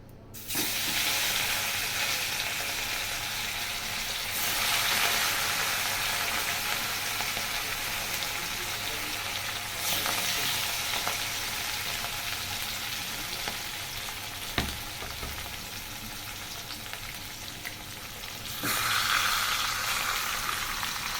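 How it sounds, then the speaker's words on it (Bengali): A katla fish head fries in hot oil in a pan, giving a steady, loud, crackling sizzle that runs unbroken for the whole stretch, with brief surges and no voices. "মাছ ভাজা হয়ে গেছে, মাথাটা ভাজছি।"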